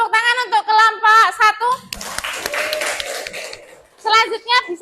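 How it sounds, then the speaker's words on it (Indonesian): Classroom clapping for a student group, a short burst of scattered hands in the middle, with children's voices talking before and after. "tepuk tangan untuk kelompok"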